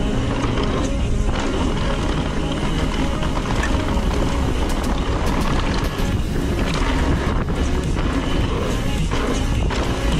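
Strong crosswind on a mountain bike descent roars and buffets constantly across the microphone, a rough, continuous rush with no voices.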